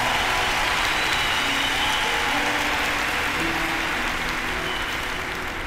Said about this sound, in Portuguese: Um forte aplauso para o meu pai